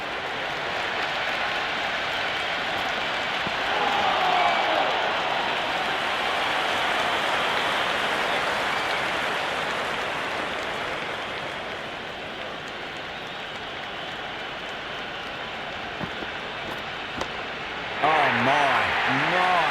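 Stadium crowd noise in the Cricket 26 video game, a steady broad roar of cheering that swells and eases over time, with a commentator's voice heard toward the end.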